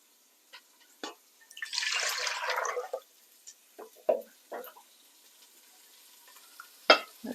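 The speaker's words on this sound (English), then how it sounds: "Add your litre of water." Water is poured into a pot on a hot plate to make stock, a rushing, splashing pour lasting about a second, followed by scattered clinks, taps and small knocks of cookware in a quiet kitchen.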